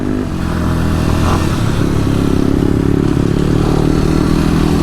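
Motorcycle engine labouring loudly and steadily in a low gear up a rough mountain trail in Kayapa, Nueva Vizcaya, with rattling and clattering from the rough ground, close and continuous throughout with no talk.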